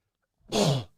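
A single sneeze, a short close burst of breathy noise lasting about half a second after silence.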